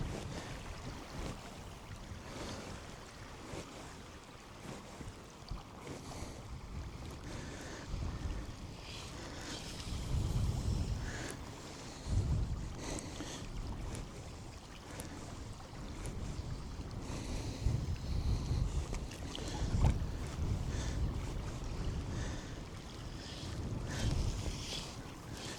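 Cold northerly wind buffets a small boat during trout fishing, with continuous gusty rumble and microphone wind noise, occasional louder gusts and lapping water, and nobody speaking.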